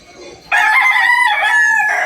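Boston Roundhead gamecock crows once, loud and close, a long drawn-out call lasting about a second and a half after brief low background noise.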